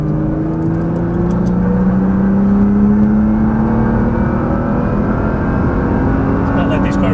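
A Nissan GT-R accelerates hard on a race track, its engine roaring loud and steady with a rising whine as revs climb, the drone filling the cabin continuously.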